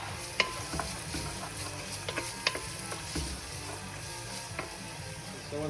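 Crushed garlic and onions fry in a pan for lasagne under a steady low sizzle, while a wooden spoon scrapes and knocks against the pan in a handful of sharp, irregular clacks.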